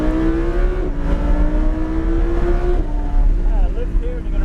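A Lamborghini or Shelby GT500 sports car accelerates on a track marked with cones, its engine note rising steadily and dropping at a gear change, then climbing again. A loud, close, continuous roar fills the clip, with an instructor's voice speaking over it.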